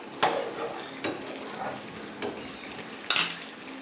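A spatula stirring food in a pan on medium heat while cooking a simple recipe, a few sharp scraping clinks spaced out over a faint background, with a louder scrape near the end.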